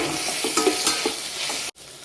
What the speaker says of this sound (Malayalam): ഉള്ളിയും കൂടി ഇട്ട് കൊടുത്ത് നന്നായി ഒന്ന് വഴറ്റിയെടുക്കണം. ഈ കൂട്ടത്തിൽ തന്നെ നമുക്ക് പച്ചമുളകും കൂടി ഇട്ട് കൊടുക്കാം.